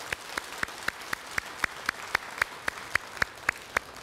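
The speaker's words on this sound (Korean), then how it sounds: "여러분들 큰 박수 부탁드리겠습니다" A single person claps in slow, steady, evenly spaced beats through a Sunday dharma talk at Jogyesa temple, each clap sharp and fairly close against a quiet hall, with no talk over it.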